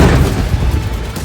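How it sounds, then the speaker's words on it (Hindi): A drone strike explosion in Zaporizhzhia, Ukraine, a loud low boom that rolls on as a sustained rumble across the whole moment, with no speech. "पहले ड्रोन आकर गिरा, धमाका हुआ"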